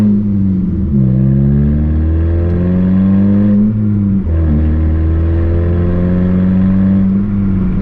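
A Mazda 3 four-cylinder engine revs and shifts through gears, pitch climbing and dropping repeatedly as it drives; loud, close, steady engine drone throughout.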